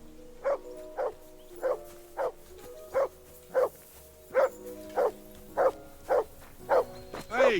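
A dog in the medieval game Kingdom Come Deliverance 2 barks repeatedly in a steady rhythm, about a dozen evenly spaced barks at moderate distance over a quiet background.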